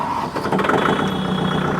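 Kubota 5502 tractor engine running in neutral, a steady close diesel rumble with a thin high whine above it, continuous and fairly loud throughout with no talking.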